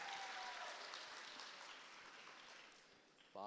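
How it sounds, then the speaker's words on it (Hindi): A comedy hall audience in Islamabad applauds a stand-up comedian, a dense wash of clapping that slowly fades over a few seconds before a brief new sound cuts in at the end. "इस हॉल के लिए भी तालियां और इस खंदक के लिए भी तालियां।"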